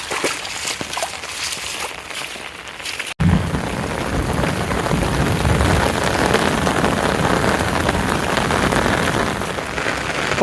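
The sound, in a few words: heavy rain falling in a village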